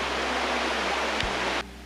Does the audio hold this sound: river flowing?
yes